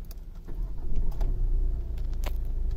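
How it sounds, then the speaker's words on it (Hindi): A Hyundai Creta 2020 engine runs at idle after starting, a steady low rumble close by with faint clicks and rattles over it. "ये आपकी गाड़ी स्टार्ट है"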